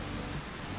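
Steady rain hisses faintly and evenly in the video game Stormworks: Build and Rescue during a drive across a desert in foggy, windy weather, with no talking.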